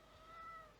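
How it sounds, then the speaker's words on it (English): A cat gives a single short meow inside a shed, faint and close. "Please excuse the cat coming in trying to destroy the shed."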